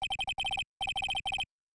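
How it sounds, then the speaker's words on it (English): A cell phone ringtone from the Phoenix Wright Ace Attorney game plays alone as quick, bright electronic beeps in tight rhythmic groups, pausing briefly before repeating. "We are going to call my cell phone now."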